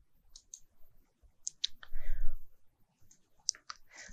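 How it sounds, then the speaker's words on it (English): Sharp, quiet computer mouse clicks used to select objects in structural modelling software, a handful of separate clicks spread out with gaps, and a faint murmur between them. "If you want to remove objects from the selection, then hold down the Shift key and click"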